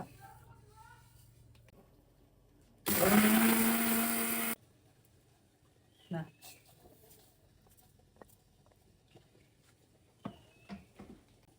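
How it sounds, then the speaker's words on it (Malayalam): A mixer grinder whirs loudly for under two seconds in one burst, grinding coconut, surrounded by quiet room noise, a few knocks and faint bird chirps. "നമ്മൾ ഇതൊന്ന് മിക്സിയിൽ പൊടിച്ചെടുക്കട്ടെ കേട്ടോ"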